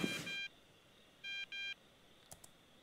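A phone dials in the video game Thief Simulator, giving a quiet series of short tonal keypad beeps in two or three separate bursts, followed by a soft click, with no talk.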